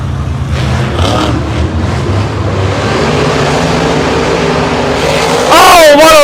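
Gravedigger and Zombie monster trucks racing at an arena final, a steady loud engine roar throughout that swells sharply near the end with rising whine, crowd noise beneath.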